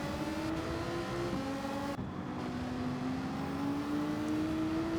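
Race car engines in a Gran Turismo 7 race at Suzuka with GT4 cars: steady, whining engine drones that rise and fall in pitch, with one note sliding lower as a car shifts or passes. The sound is continuous and moderately loud, with no talking.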